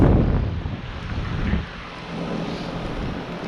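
A 2023 Carrier Comfort 15 heat pump comes out of defrost with a steady, broad whooshing rush. It is loudest in the first second and a half, then settles into a softer, constant airy hiss.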